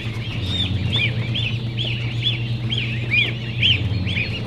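Ducklings give repeated high, arching peeps while being picked up and held for vent sexing on a farm, a steady run of close calls over a low constant hum.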